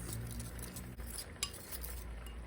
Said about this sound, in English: Give it a mix.